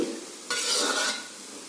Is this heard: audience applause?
no